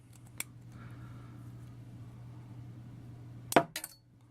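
A GI Joe action figure's small plastic toy spear gun fires: one faint click, then a sharp close snap followed by a couple of quick rattling clicks in a quiet room.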